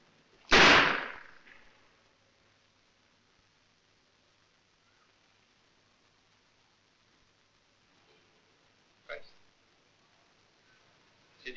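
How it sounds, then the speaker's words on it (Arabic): A heavy pistol fires a single loud, sharp shot near the start, followed by a long quiet stretch and a softer crack later on. "هضرب على طول. مسدس جامد اهو."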